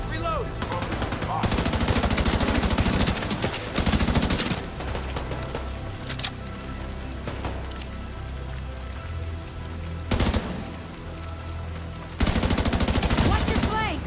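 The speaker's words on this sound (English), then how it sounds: "Keep firing and take them out!" Gunfire in the video game Division 2: dense rapid automatic bursts in loud blocks, separated by quieter stretches of lower rumble and scattered shots, ending with another heavy burst.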